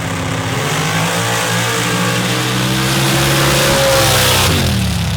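A race truck engine at an MRA racing event in Florida fires up and revs hard, a loud, close, throaty roar that builds in pitch and intensity before dropping near the end.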